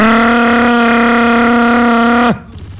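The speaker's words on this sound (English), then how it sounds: "Sounds like a shitty motorcycle engine." A loud, steady, buzzing motorcycle engine drones at a constant pitch in the video game Left 4 Dead 2, then cuts off abruptly near the end, leaving faint background noise.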